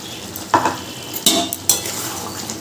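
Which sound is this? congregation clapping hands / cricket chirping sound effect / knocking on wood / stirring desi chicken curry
stirring desi chicken curry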